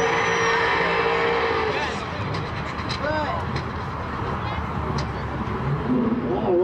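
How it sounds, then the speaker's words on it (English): Fast cars on small tires at a no-prep drag race with Shelby GT500 and turbo Mustangs, a loud sustained engine roar with rising revs and tire noise, and people talking over it. "small tire racing, fast cars, small tires"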